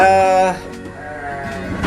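A Garut sheep on a farm in Bogor gives a loud, close bleat lasting about half a second, then quieter farmyard sounds follow.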